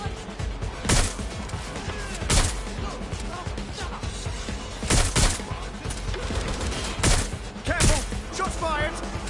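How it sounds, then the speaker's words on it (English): Gunshots in the video game Watch Dogs Legion: several sharp, loud shots come at irregular intervals over a dense background of game noise and shouted voices. "Careful! Shots fired!"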